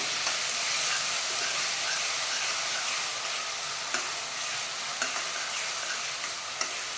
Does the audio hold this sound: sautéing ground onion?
yes